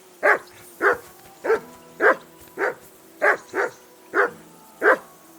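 Nine loud, close barks from a dog in Kingdom Come: Deliverance II come in a quick, fairly even rhythm, each bark short with a slight whining tail and nothing else in between.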